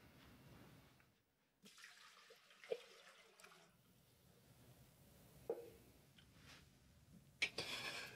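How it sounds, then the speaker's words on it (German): Water, 1200 grams of it, is poured into a Thermomix mixing bowl, giving soft, intermittent splashing and trickling with a few sharper knocks, faint and close in a quiet kitchen. "im nächsten Schritt kommen jetzt 1200 Gramm Wasser in den Mixtopf."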